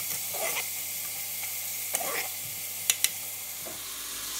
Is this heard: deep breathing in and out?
no